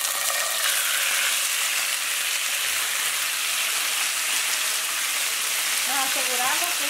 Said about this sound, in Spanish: Ya tengo el aceite, ya lo tengo calentando y ahora ya voy a agregar el pollo.